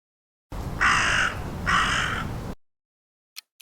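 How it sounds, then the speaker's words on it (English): A crow caws twice, two loud, harsh, close calls over a faint background hiss, followed by silence and a couple of tiny clicks. "Yes, it's crow."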